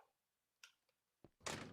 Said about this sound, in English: You just close the door.